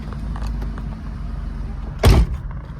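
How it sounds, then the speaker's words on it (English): A 1990 Buick Reatta sits idling with a low steady rumble, then gives one short, louder mechanical burst, like a door or power window, about two-thirds of the way through. "And let's take this Buick for a drive and see what it's like to drive a 1990 Buick."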